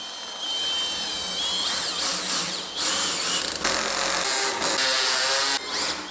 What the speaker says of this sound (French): ça me fait mal au cœur de la percer mais il faut